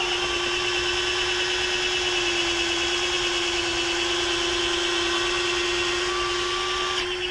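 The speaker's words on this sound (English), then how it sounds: "I'm going to go ahead and cycle them for you here and let you see how they cycle up." Retractable aluminum landing gear struts on an LX Models F-4 Phantom II RC jet cycle up, giving a steady, thin electric whine for about seven seconds. The whine ends with a faint click, and no other sound is heard.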